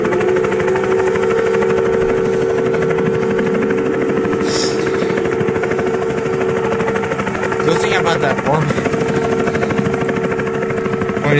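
A video game helicopter drones steadily with a throbbing rotor and engine hum close by, continuous throughout, while a voice talks over it.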